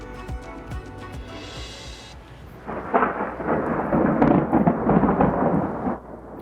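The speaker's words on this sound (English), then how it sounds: "Roaring thunder and lightning strikes parts of our county today." Thunder rumbles through a midweek storm over a Southern California county, a faint patter building into a loud, sustained roll of several seconds that fades near the end.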